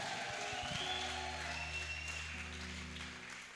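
A church congregation applauding elders together, a soft steady patter of many hands that carries on without a break and tapers slightly toward the end, heard from some distance under a low organ-like drone.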